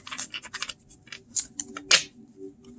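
Tarot cards from a sketchbook-edition deck printed on Make Playing Cards cardstock being shuffled close up, a quick series of crisp riffling and scraping snaps, quiet and without speech.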